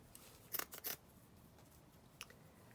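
Scissors snipping through crochet lace: a quick cluster of three or four crisp cuts close by, then a single faint snip after a pause, in a quiet room.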